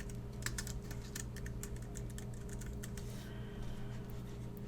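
Rapid typing on a computer keyboard entering a project name, quick irregular key clicks close by over a steady low electrical hum, slowing near the end.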